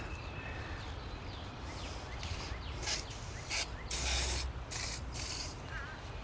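Battery cleaner sprays in short hissing bursts onto the corroded positive terminal of a 2013 Honda Civic, with pauses and light handling noise between them.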